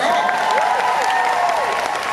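Audience applause at an MCM Comic Con panel in London, a steady dense wash of clapping and crowd noise filling the hall, with faint voices and whoops mixed in.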